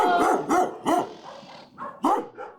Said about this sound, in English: a barking dog stood guard outside what seemed to be a deserted home